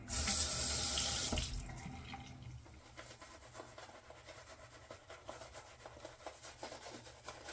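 Tap water runs loudly into a sink to wet a shaving brush, a strong rush for about two seconds that then fades, followed by quieter wet rubbing and dabbing sounds up close.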